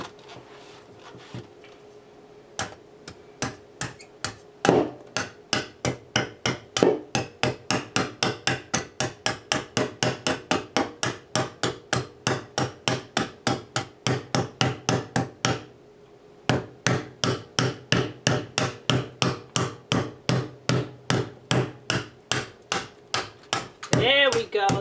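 Steady hammering on a coconut shell, a long run of sharp, evenly spaced knocks at close range that pauses briefly partway through, then resumes at the same quick rhythm, with no voices.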